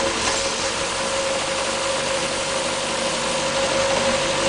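A 1500cc MG Midget engine idles while starter fluid is sprayed around it, giving a loud, close, unbroken mechanical drone with a steady hum throughout.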